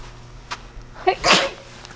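A dog's sneeze: a short sharp burst of breath, preceded by a faint snuffle, close by in a quiet room.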